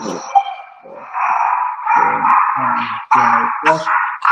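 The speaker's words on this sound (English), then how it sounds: "Somebody's dog is going wild, loving this." A dog barks and yips excitedly in quick uneven bursts, loud and close, with a voice or other sound partly over it.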